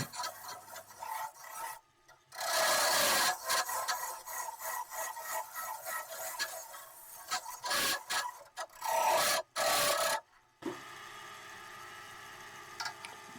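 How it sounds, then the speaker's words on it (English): A homemade hollowing tool cuts into a small elm hollow form spinning on a lathe, giving loud rasping scrapes in long bursts broken by brief pauses, close and with no talk. "This is a homemade hollowing tool, which I use when I get deeper into the"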